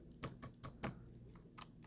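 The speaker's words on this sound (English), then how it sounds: "We've got the good old-fashioned Corsair keyboard with the RGB." Corsair RGB keyboard with a number pad, its keys pressed in a handful of separate clicky taps, close and fairly quiet, with short pauses between them and no talking.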